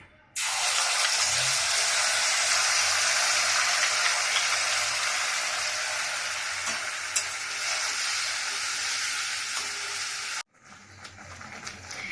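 A paste of cashews, poppy seeds, raisins and green chilies fries and sizzles loudly and steadily in a pan for about ten seconds, then cuts off abruptly, leaving quieter kitchen clatter.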